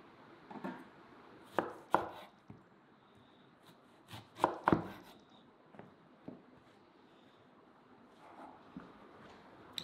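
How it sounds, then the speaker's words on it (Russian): Knife slicing eggplant into strips on a cutting board in uneven bursts of sharp taps, close by, with quiet pauses between groups of cuts. "Баклажан нарежем соломкой"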